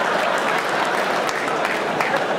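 Dense, continuous applause from a large theatre audience at a live stand-up comedy show, sustained and even throughout with no pauses.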